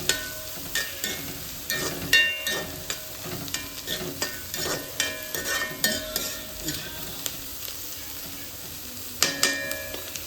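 Bitter gourd sizzling in a pan, with repeated clinks and scrapes of a spatula stirring the pieces.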